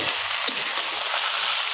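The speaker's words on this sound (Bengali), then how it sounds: "এখন শাক ঢেলে দিলাম।" Potato greens hit hot oil already browning onions and fry with a loud, constant sizzle, a dense close hiss with faint clicks of stirring beneath, no speech.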